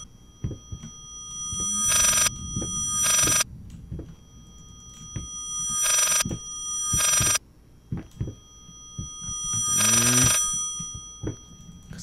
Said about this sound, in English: so I'm supposed to answer the phone